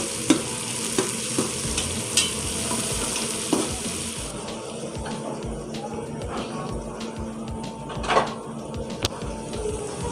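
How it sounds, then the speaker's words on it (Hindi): Onions fry and brown in a pot, a steady close sizzle with occasional clinks and scrapes of stirring throughout. "प्याज को अच्छा सा ब्राउन कर लेंगे।"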